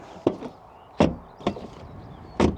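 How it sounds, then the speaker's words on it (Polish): The doors of a 2025 BMW 220 Gran Coupe open and close, giving several dull, solid thuds and latch clicks spaced irregularly over a couple of seconds, close and fairly quiet. "Dźwięk otwierania i zamykania drzwi w ogóle."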